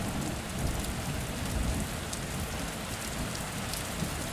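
Steady heavy rain pours down in a dense, continuous hiss with a low rumbling undertone like distant thunder, unbroken and fairly loud throughout with no voices.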